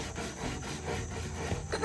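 Sponges scrubbing the plastic body of a Cozy Coupe toy car during a restoration, a close, continuous rubbing and rasping with steady strokes and no talking.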